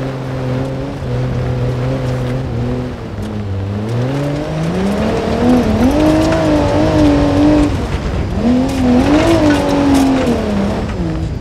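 Mercedes-Benz SUV in GTA 5 off-roading, engine loud and close, revving up and down in repeated surges with tires scrabbling, no talk over it.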